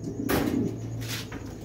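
A pigeon coos up close: one soft, throaty call, then a quieter follow-up. The sound is brief and low, with no speech.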